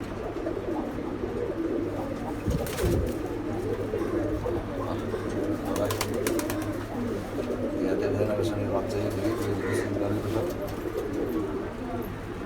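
Pigeon cooing from a loft holding Pankhi, Taddy, Budapest and Saharanpuri breeds, soft repeated low coos running steadily under people talking nearby.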